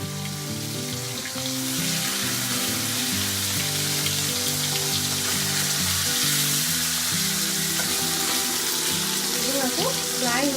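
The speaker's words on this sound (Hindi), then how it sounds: "तेल हमर एबे भल भाबे गरम हो जायछि। एबे आमे माछो को एथरे छाडी नबा।" Fish sizzling in hot mustard oil for a cumin fish curry, a steady close frying hiss running through the whole stretch beneath prominent music.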